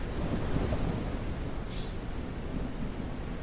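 A video game's rain and thunder: a dense, steady wash of rain noise with a deep rumbling low end like distant thunder, continuous and fairly loud, with no voices.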